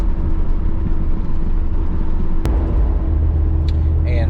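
Old pickup truck named Rusty driving on a road, its engine a steady low rumble with continuous road and drivetrain noise, loud and close throughout.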